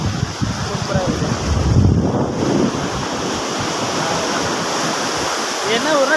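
Ocean waves wash onto the shore at Thiruvanmiyur beach in Chennai, a broad surging roar mixed with gusting wind noise on the microphone, close and loud throughout.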